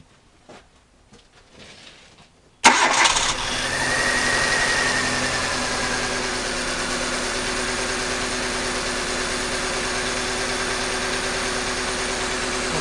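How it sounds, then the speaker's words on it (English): A car engine cranks and catches with a sharp burst, then settles into a steady idle hum that continues, with a misfire present because an injector is unplugged. "I'm going to start this vehicle right now, and we'll see what we have at idle."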